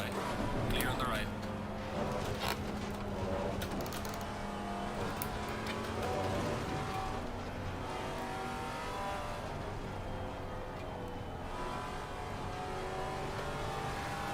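Race cars in Assetto Corsa Competizione during a six-hour event at Watkins Glen roar past, engines revving and shifting near and loud, with a brief tire squeal and voices talking over the racing.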